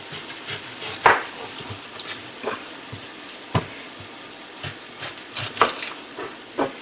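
An onion is chopped on a board with a knife: irregular, distinct taps spaced a beat or so apart, fairly close and moderate in loudness, against a quiet kitchen background.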